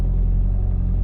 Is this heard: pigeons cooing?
no